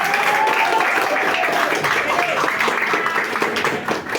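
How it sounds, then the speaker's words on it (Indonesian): Audience applause celebrating a court victory for Tanah Merah residents, a dense, steady wash of clapping from a crowd, fairly loud throughout. "Kita berikan aplaus yang meriah"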